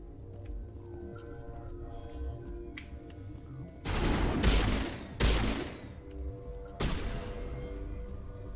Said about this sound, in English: Oh, man, I love this pistol.